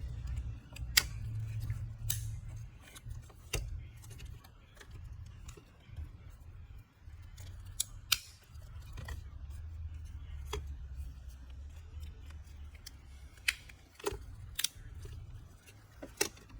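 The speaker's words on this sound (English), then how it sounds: "Reinstall the connector face and connector shell by snapping them back into place." Connector face and shell of an ECM wiring plug snapping into place, heard as a series of sharp, close plastic clicks scattered irregularly over a low steady hum.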